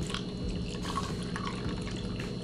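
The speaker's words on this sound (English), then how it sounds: "Then we're just gonna pour in a little bit of coffee on top of that." Chilled coffee is poured over an iced hot chocolate, a steady close trickle and splash of liquid into a cup, with faint dripping and no talk.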